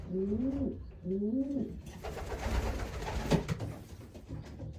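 Racing pigeons cooing close by, two clear rolling coos in quick succession followed by softer rustling and faint bird sounds, with no talk.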